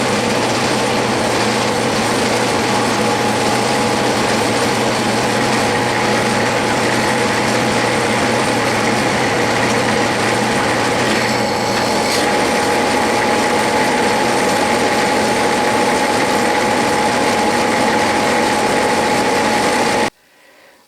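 Metal lathe threading stock with a die held in a tailstock die holder, a steady droning machine hum with a faint tonal whine running continuously for about twenty seconds before stopping abruptly.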